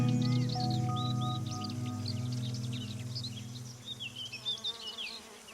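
Insects buzz steadily and close around flowering plants in sunny Provence, a low droning hum with bees and flies, while chirping birds twitter throughout in the background.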